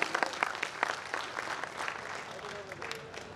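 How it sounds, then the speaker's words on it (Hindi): An audience clapping at a Bhojpuri stage show, a burst of scattered claps that thins out over a few seconds, with voices over it. "ताली बजा दीजिए आप लोग।"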